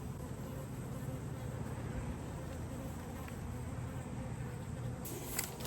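Honey bees buzzing from an opened hive in a suburban backyard, making a dense, continuous low hum that stays steady throughout, with faint handling noise near the end.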